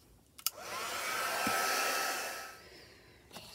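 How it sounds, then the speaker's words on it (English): A heat gun drying a paper craft embellishment for a junk journal blows a steady, loud whooshing hiss that swells up and fades away, with small clicks at the start and end. "I can dry it with my heat gun"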